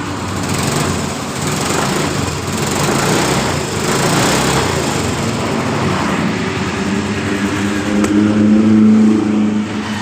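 A Yamaha Mio scooter with hard-starting trouble, stalling when the throttle is opened, runs close by after a spark plug change, its small engine droning steadily and rising into revs, loud throughout with no talk.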